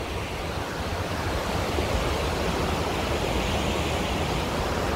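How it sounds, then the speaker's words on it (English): A mountain stream feeding a waterfall on the heights above Nærøyfjord gives a steady, dense broadband roar of rushing water, constant and unbroken throughout. "You got that freaking river or stream that runs to that waterfall over here."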